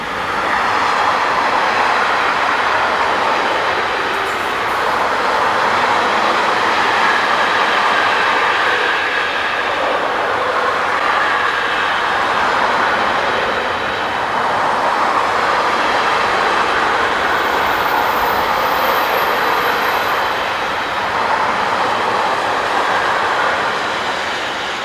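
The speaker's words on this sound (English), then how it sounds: "(185-544) heads loaded car carriers north on the old line" A German main-line freight between Northeim and Hannover, a Class 185 electric locomotive hauling loaded car carriers north on a München to Bremerhaven service, rolls past with a loud, steady rumble and rail roar lasting throughout, with no voices.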